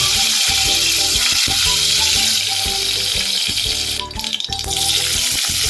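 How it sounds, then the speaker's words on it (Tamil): Mustard seeds and curry leaves frying in hot oil for carrot rice, a close, loud crackling sizzle with rapid popping and a brief burst of hissing partway through, no speech. "அதில் கடுகு நல்லா பொரிஞ்சோன்னே அதுக்கடுத்து கருவேப்பிலையும் ஆட் பண்ணிக்கலாம்."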